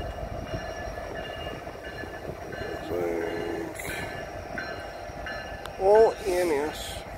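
Norfolk Southern freight train 153 with an SD70ACE locomotive in the lead arrives at Greenville station, a steady rail rumble running throughout with a brief horn-like tone late on, while people talk quietly nearby.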